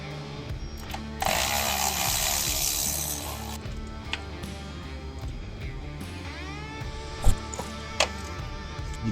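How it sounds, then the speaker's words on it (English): A hand ratchet works a bolt loose from a bracket in a car engine bay, rapid clicking runs in bursts with a louder stretch early and a few sharp knocks later, no speech. "Just getting the bolt on the top of this bracket, so then I can move the bracket out of my way"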